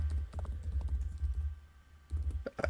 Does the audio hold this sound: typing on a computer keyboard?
yes